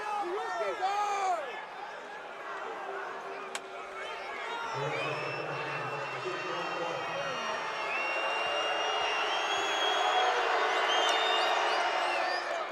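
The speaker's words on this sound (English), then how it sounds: "Crowd getting a little lively yeah," A college basketball crowd at an NCAA men's tournament game grows lively, a broad roar of voices swelling and building toward booing over the last several seconds, with a commentator's voice heard beneath.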